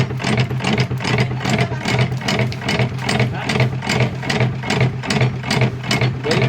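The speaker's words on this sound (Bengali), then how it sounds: "বেলটা হালকা বেল্টও চালু হয়ে গেল, মোটর ঘুরছে" A batasa sweet-making machine runs with its belt and motor turning, a loud close mechanical drone pulsing in a fast regular rhythm with a steady low hum.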